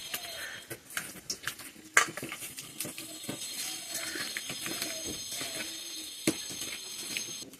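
Hilsa fish pieces are mixed by hand in a marinade in a bowl, giving soft wet squelches with scattered clinks and knocks against the dish, near and fairly quiet.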